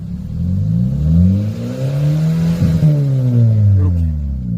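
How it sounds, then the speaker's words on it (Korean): Hyundai Avante AD with a variable exhaust switched open, revving up and down in a couple of loud, close sweeps with a deep burbling exhaust note. "키게 되면 아이들링 상태에서도 배기 소리가 다르죠."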